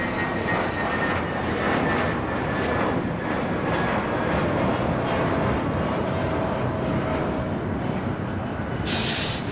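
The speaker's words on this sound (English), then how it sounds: "This is JetBlue Airways, Flight 131, taking off to Salt Lake City on an A320 in the New York Jets livery." A JetBlue Airbus A320 takes off at LAX, its jet engines producing a loud, continuous broadband roar that holds steady throughout, heard from a distance across the airfield.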